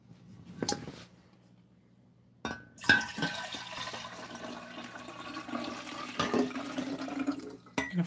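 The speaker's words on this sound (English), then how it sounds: "I'm gonna pour that lime in here." Lime being poured into water in a washtub for washing clothes, a close, continuous splashing pour of water and liquid with occasional clinks, starting after a brief quiet pause and running steadily to the end.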